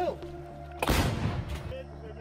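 A single artillery shot booms out as a heavy, rumbling blast lasting under a second, set against steady background noise and speech.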